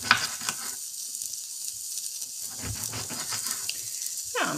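Aubergine slices fry in hot oil with a steady, fairly quiet sizzle and crackle, plus occasional stirring or kitchen clatter.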